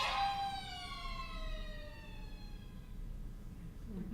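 A sirena tango effect played on instruments to imitate a siren, a loud rising-then-falling wail with bright harmonics that sweeps down and fades over several seconds, heard alone.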